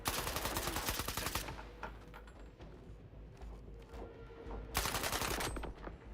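Rifle gunfire in S.T.A.L.K.E.R. 2, loud rapid automatic bursts opening the scene, a quieter stretch of scattered sounds, then another close, sustained volley near the end.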